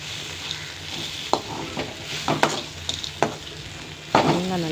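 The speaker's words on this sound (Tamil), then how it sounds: "சுண்டைக்காய் நல்லா வெங்காயம் தக்காளியோட மிக்ஸ் ஆன உடனே ஒரு கை தேங்காய் துருவல் சேர்த்துக்கலாம்." Turkey berries sautéed in a pan with onion, tomato and grated coconut, a soft sizzle under repeated close spoon stirs and scrapes, with a sharper clatter near the end.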